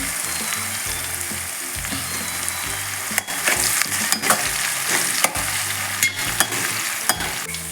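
Curry leaves sizzle loudly in hot oil for a village-style egg sambar, with a steady broadband crackle broken by sharp stirring scrapes and knocks against the pan, close up and with no voices.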